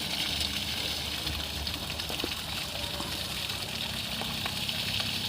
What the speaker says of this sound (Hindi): पानी बर्बाद ना करते हुए मूली को धोना हम शुरू करते हैं। काफ़ी प्रेशर है।